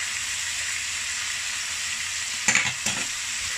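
Braised pork belly with oyster sauce sizzles in a hot pan under a dense, steady frying hiss, broken near the end by two brief scraping stirs of a spatula, close and without voices.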